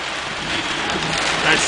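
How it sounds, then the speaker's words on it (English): Heavy rain pours steadily at night during a June storm in front of a NAPA auto parts store, a dense, close hiss filling the scene with slight surges and faint voices underneath. "You can probably see the rain blowing in front of this truck."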